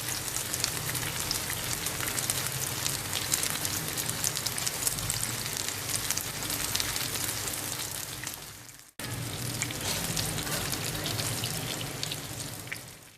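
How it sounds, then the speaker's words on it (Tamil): Batter-coated chicken pieces frying in hot oil over medium-low heat, giving a steady, dense sizzle and crackle like rain that runs on without pause apart from one short break. "சிக்கன் பீசஸ், கோழி துண்டுகளை மீடியம் லோ ஹீட்டில் வச்சு நல்லா வேக வச்சு பொரிச்சு எடுத்துடுங்க."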